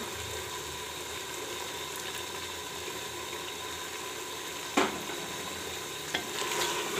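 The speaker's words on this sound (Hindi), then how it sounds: "मैं इधर आधा कप कुकिंग ऑयल डाल रही हूँ।" Half a cup of cooking oil poured into a pan for dhaba-style keema matar: a steady, close hiss and sizzle holds throughout, broken by a couple of brief clatters near the end.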